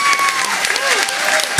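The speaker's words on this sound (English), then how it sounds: "So these girls, give them a big round of applause." Applause from a panel-discussion audience for a group of students, dense clapping with some voices speaking over it, ending in a sharp nearby clap.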